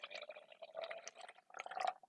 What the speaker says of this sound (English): Now we're going to go ahead and add some water.